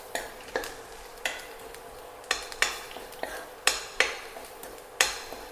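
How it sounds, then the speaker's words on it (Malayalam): Turmeric and chili powder are stirred in a pan for Kerala-style moru curry: a spoon repeatedly scrapes and taps the pan in irregular strokes over a quiet sizzle. "ആ പച്ചമണം പോകുന്ന വരെ ജസ്റ്റ് ഒരു 20 സെക്കൻഡ് ഇളക്കി മതിയാവും."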